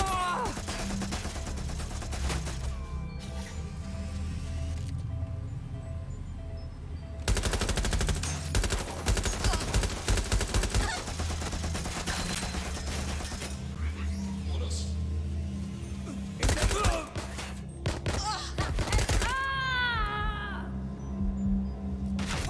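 G36 rifle bursts in Watch Dogs Legion, loud rapid volleys recurring through the scene over game music and effects, with a voice talking at points.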